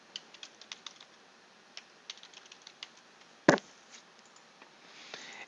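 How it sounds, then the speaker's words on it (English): Keys tap on a computer keyboard as a password is entered, with sparse, quiet clicks in uneven bursts, one sharper clack midway and a faint flurry at the end. "Now you have to enter in your password."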